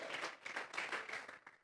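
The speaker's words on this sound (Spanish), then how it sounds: "Vamos a regalarle ofrenda de palmas al Dios de la gloria." A church congregation claps together as an offering of praise to God, a dense, sustained wash of applause that sounds distant and fairly soft.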